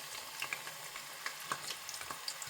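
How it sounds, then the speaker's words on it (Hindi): Onions frying in hot ghee for chicken degi pulao, a continuous moderate sizzle with soft crackles and occasional stirring taps, no voices. "इसको हल्का गोल्डन ब्राउन करने तक हम फ्राई करेंगे"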